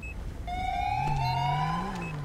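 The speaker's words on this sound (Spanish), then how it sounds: "llega también ahí la segunda ambulancia del Samur" Wailing ambulance siren from the Spanish SAMUR emergency service in the video game GTA 5, rising and sweeping steadily over a low engine rumble, loud and close for about two seconds with no talk.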